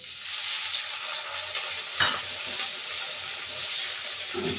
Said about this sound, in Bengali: এই পনির আমি পনিরটাকে একটু ভাজবো